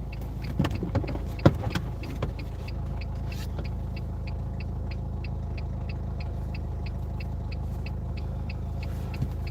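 A car engine idles steadily with a low, continuous rumble, near and constant throughout, with a faint repeating tick above it and a few knocks early on.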